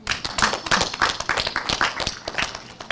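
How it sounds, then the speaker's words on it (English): Audience hand clapping at the official launch of a university computing and informatics faculty building, a steady run of fairly loud claps from a crowd, with no talk over it. "Can I hear a hand clap?"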